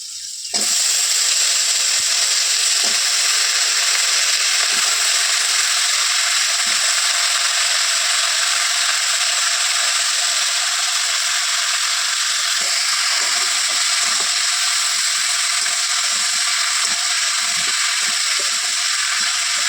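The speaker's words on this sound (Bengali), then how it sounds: "পটলগুলো লাল করে ভেজে নেবো হালকা লাল হয়ে এসেছে এবার বাকি সবজিগুলো সব দিয়ে দেবো" Steady, close sizzle of pointed gourd being fried in a pan with oil, continuing alone without pause as the mixed vegetables are about to join it, with faint stirring clicks now and then.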